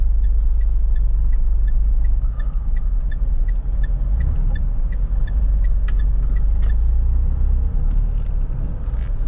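Manual Mitsubishi Montero climbing an incline, a steady deep engine drone and rumble heard from inside the cabin with faint regular ticking above it.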